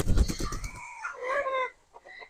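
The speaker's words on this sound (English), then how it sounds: "This is her rooster right here." A rooster gives a short call close by, a brief strained crow following a burst of nearby rustling and clucking, then trailing into a few faint clucks.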